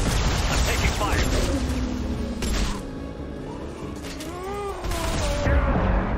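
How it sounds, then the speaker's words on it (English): Gunfire in the video game Mass Effect 2, a close, dense burst of rapid shots and booms layered over game effects, with a voice speaking briefly in between. "I'm taking fire."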